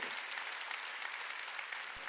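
A church congregation claps together during a Sunday worship service, with steady, dense applause heard from a short distance throughout.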